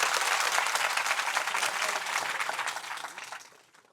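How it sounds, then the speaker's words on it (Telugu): Loud, dense audience clapping at a Hindu spiritual gathering, sustained and close for several seconds before tapering off at the end, no talk over it. "స్వామి కూడా గట్టిగా చప్పట్లు కొట్టారు."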